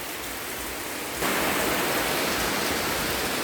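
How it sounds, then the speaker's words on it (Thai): Rain falling around a house, a dense wash of steady hiss that starts moderate and then swells abruptly into a heavier downpour, loud and continuous with no voices. "ฝนตกดีอีพี่น้อง"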